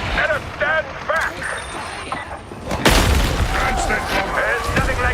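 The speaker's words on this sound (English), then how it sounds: "There's nothing like a good explosion" An explosion breaks through a wall in a video game, sounding as a sudden loud boom with a crumbling, debris-filled tail that follows brief chirping effects and chatter.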